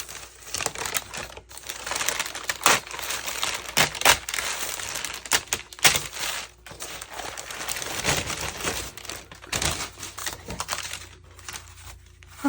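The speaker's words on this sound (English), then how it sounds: "I'm going to go ahead and rip one of these apart" Scrap packing paper being ripped apart by hand, close and fairly loud: a continuous run of crinkling, crackling tears with sharper bursts scattered across the whole stretch.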